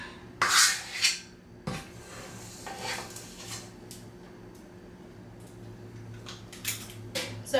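Cookie dough for kitchen sink cookies being scooped onto a baking tray: scattered metallic clinks and scrapes of spoon against tray, a few sharp knocks, with quieter rubbing sounds in between.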